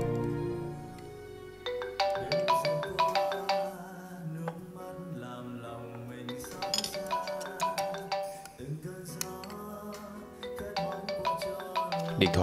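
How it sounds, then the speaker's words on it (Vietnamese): A mobile phone ringtone plays a bright, repeating melodic tune, steady and moderately loud for the whole stretch, with no talking over it. "Em có điện thoại kìa."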